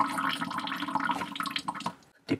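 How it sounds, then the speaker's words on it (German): Leftover water in a leaky faucet's supply line drains out after the pump is switched off, a close, irregular splashing gurgle that thins out and stops, then gives a couple of final drips. "das ist jetzt noch das restliche Wasser, was noch in der Leitung war."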